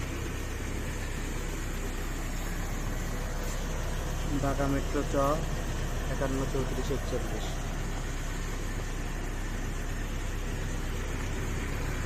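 A 1997 Toyota Noah car engine idles steadily after being started, a low continuous hum with someone speaking over it partway through.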